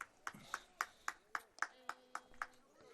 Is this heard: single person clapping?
yes